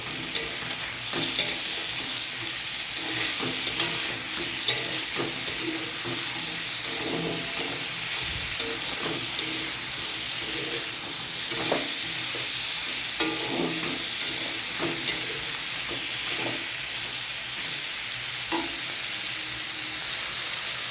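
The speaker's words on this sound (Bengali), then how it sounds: "দিয়ে এবার এই গুঁড়ো মশলাটাকে ফ্রাই করা তরকারির সঙ্গে আমি মিশিয়ে দেবো।" Spice powder is being stirred into a vegetable curry frying in a pan: a steady, dense sizzle runs throughout with repeated scraping stirs, close and fairly loud, and nobody speaks.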